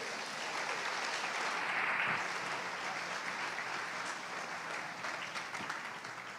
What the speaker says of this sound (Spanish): ¿Será que alguien puede aplaudir a Jesucristo?